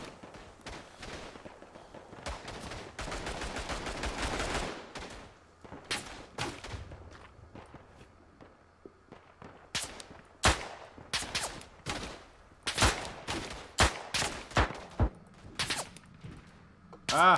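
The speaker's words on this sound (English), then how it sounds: "Okay, I'm shooting Russians." Gunfire in the World War I shooter Tannenberg: a fast rattling burst of machine-gun fire, then a run of sharp, separate rifle shots, each loud and cracking against a quiet background.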